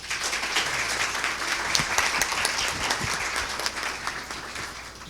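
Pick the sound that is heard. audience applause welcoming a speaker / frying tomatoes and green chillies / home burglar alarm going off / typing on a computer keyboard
audience applause welcoming a speaker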